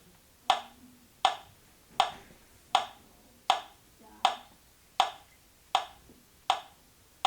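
Ten sharp hand claps at an even, steady pace, each crisp and close, with brief quiet between them.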